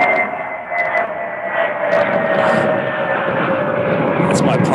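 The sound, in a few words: airplane flying overhead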